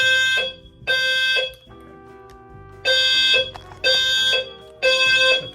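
An apartment fire alarm sounding during a unit-by-unit test, loud repeated harsh electronic beeps in long bursts about a second each with short gaps, close and alone.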